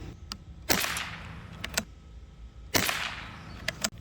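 Two sharp shots from a Webley Nemesis-X PCP tactical air rifle fired at a 25-yard target, each a loud crack with a short decaying tail, spaced about two seconds apart, plus a few faint clicks.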